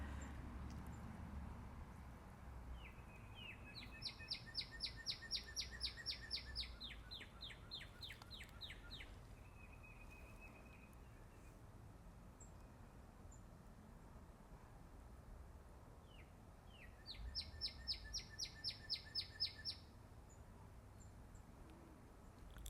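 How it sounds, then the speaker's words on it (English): In a butterfly garden, birds sing in two clear bursts of rapid, high, trilling chirps against a faint, steady outdoor background. "I love the birds in the background too."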